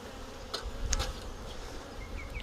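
Honey bees buzz steadily at close range around an opened Flow hive while frames are lifted out during a honey harvest, a dense, continuous hum with no talking.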